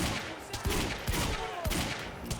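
Video game firefight gunfire from Quantum Break, with rapid bursts of automatic shots and scattered single cracks rattling across a noisy battle, distant-sounding and fairly quiet overall.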